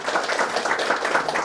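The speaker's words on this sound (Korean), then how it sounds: "다시 한번 격려 박수 부탁드릴까요?" A seated audience at a business forum lecture gives a brief burst of applause, with close, dense clapping continuing evenly throughout.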